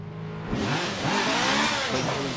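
A BMW race car in a racing video game sweeps past with a rising then falling engine whine, a short near pass standing alone without talk.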